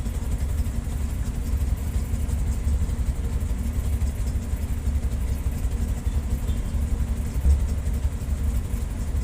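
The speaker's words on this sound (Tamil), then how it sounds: "பாருங்கள் எந்த அளவுக்கு நிற்கிது எனக்கு முன்னாடி டிராஃபிக்கு" Vehicle engines idle in heavy Chennai morning traffic, a continuous low rumble from many cars and heavier vehicles, steady and fairly loud throughout with no talk.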